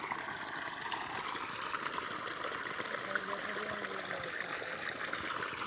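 Irrigation water runs steadily through a farm field channel, a soft continuous trickling and gurgling flow heard close by at low level, with faint voices in the background.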